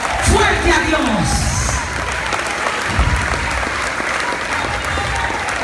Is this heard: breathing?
no